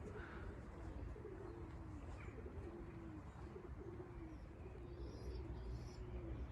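Pigeons coo repeatedly in soft, low rolling calls, fairly distant, near Hellenstein Castle in Heidenheim an der Brenz, Germany, over a faint outdoor background with occasional chirps.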